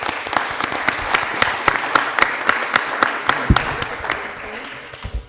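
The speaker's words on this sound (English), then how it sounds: "I think it's worth a big applause for all the panelists here." A conference audience at an energy jobs event applauds the panelists, with loud, distinct individual claps standing out over a dense rolling ripple of applause from a nearby crowd.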